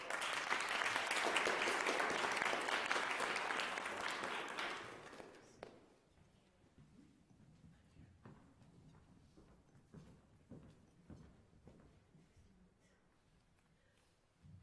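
Audience applause welcoming two speakers at a talk event, a dense burst of clapping for about five seconds that fades out, followed by quieter room noise with scattered taps and movement.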